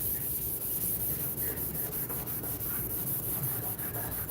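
Paint being sanded by hand on an E36 M3 car body, a steady, continuous gritty rubbing and scraping with a fairly even stroke rhythm, close by and with no speech.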